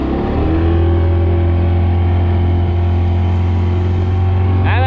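Boats motor past on open water with big waves, a steady loud engine drone with a low hum holding throughout and a brief rising whine near the end.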